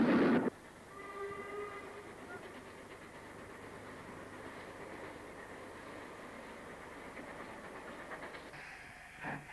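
A steam locomotive hauling a train on the climb to Copy Pit near Cliviger rumbles steadily at a distance with a faint hiss and rhythmic clatter, after a brief loud burst at the start.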